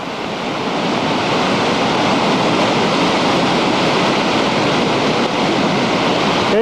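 Ventura River in flood at about 30,000 CFS, a loud, steady roar of rushing water with wind buffeting the microphone, continuous and close throughout.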